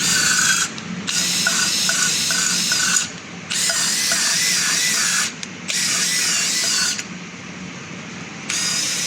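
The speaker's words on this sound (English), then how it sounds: "Just seating the valves in." High whirring power tool seating the valves on a Rover V8 engine being refreshed for racing, running in long bursts with brief pauses between them.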